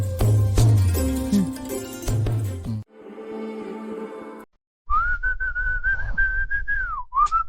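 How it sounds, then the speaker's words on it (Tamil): A person whistles a sustained, wavering melodic tone, loud and close, coming after a stretch of background music and room noise. "விசில் அடிக்காதடா."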